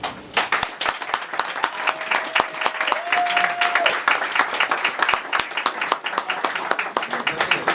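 An audience at a spoken word poetry event claps in a dense, even burst of many hands, with brief vocal sounds and a short tone partway through.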